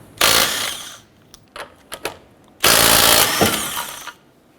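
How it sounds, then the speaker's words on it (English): Lug nuts come off a 2008-2012 Honda Accord wheel with a 19mm socket: two long, loud, buzzing power-tool bursts, separated by a few short blips, all close by. "Using a 19mm socket, let's go ahead and remove our lug nuts."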